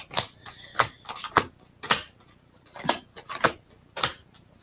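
A deck of oracle cards is shuffled and cut, giving a run of quick, crisp riffling snaps and slaps in irregular bursts, close and clear with no talking.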